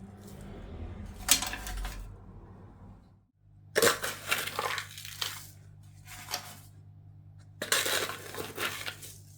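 Aquarium substrate scooped with a Tropica 1-2 grow cup, giving crunchy gravelly scrapes and rattles in three separate close bursts over a low steady hum.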